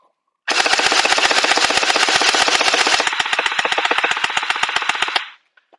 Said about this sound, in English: All right, so we're going to go ahead and shoot it.